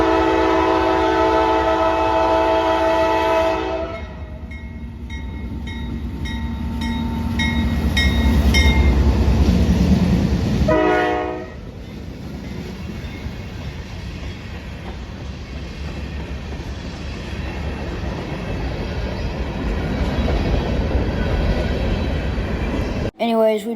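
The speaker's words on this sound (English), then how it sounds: "I was caught by a CSX rock train down at Adamo Drive near Yeoman" A CSX rock train passes at the Adamo Drive crossing near Yeoman, opening with loud sustained horn blasts, then a heavy rolling rumble of railcars that holds steady and close for the rest of the stretch.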